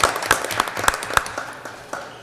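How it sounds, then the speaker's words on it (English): Brief applause from a school board meeting audience for student safeties, a scattering of claps with several sharper nearby ones, fading toward the end. "Let's see another round of applause for our students, our safeties."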